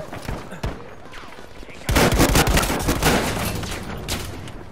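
A grenade blast and rapid gunfire erupt in Battlefield V, a dense burst of loud, crackling shots and explosions following a few scattered earlier reports.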